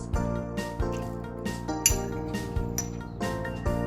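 Cutlery and dishes clink and tap in a quick, irregular series of light knocks while bulalo beef soup is plated, close and fairly quiet.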